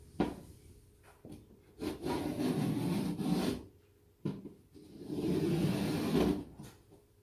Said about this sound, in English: Cut plasterboard, you just score one side of it and it snaps really easy, as you can see.